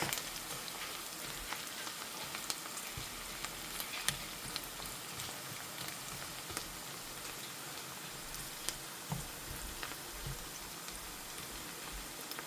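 Steady hiss and crackle of ground chicken frying in a pan, with scattered sharper pops throughout and no voices.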